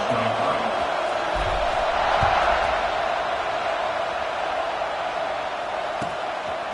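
Football stadium crowd buzzing after a score while the receiving team calls a timeout, a dense, steady roar of many distant voices with faint cheers and occasional thumps.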